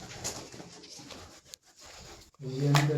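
Pigeons coo outdoors in low, throaty calls, with a louder rolling coo near the end, while people talk nearby.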